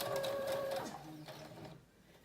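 A sewing machine stitches a 5/8 inch seam on a Simplicity 8637 wrap dress, running in one continuous close whir that slows and fades out near the end.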